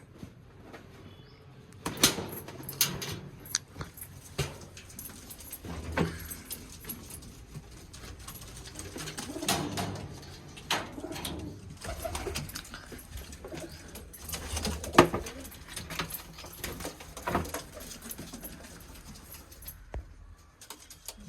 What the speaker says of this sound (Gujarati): જો નવું કબૂતર એક લઈ આવ્યા છે આપણા લોફ્ટમાં.